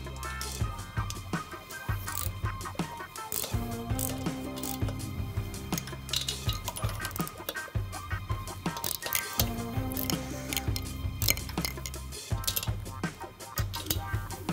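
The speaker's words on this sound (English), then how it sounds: "Steve, I'm gonna start using an impact" Impact wrench removing bolts from a Milwaukee Eight motorcycle engine in a workshop, firing in repeated rattling bursts with short pauses between them, close and fairly loud.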